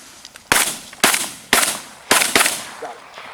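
Four loud shotgun blasts fired at waterfowl on a duck hunt, spaced about half a second apart, each with a sharp crack and a short echoing tail; a hunter shouts faintly in the background.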